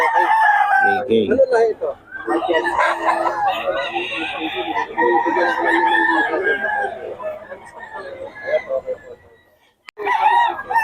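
A Gilmore Hatch Hennie rooster crows loudly and repeatedly at close range, its harsh calls mixed with clucking from other fowl while someone talks over them.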